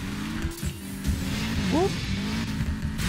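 Car engine in the racing video game Need for Speed Payback, an oversteering car, drones steadily and loudly throughout, with a brief rising whine of revving or tire squeal midway.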